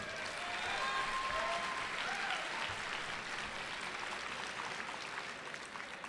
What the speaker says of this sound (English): Can we have a round of applause for Matt Kibbe?